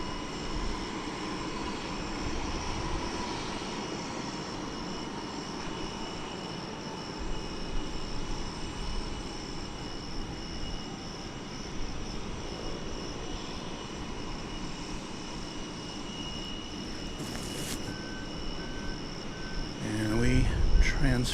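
An Airbus A321 arriving at DFW Airport from Seattle-Tacoma, a sustained distant jet engine rumble and hiss that swells slightly toward the end, with faint talk over it.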